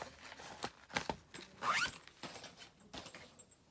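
Plastic zipper bags from Dollar Tree, used to hold cross-stitch projects, are handled quietly up close, giving soft crinkles, scattered clicks and a brief zip-like rasp.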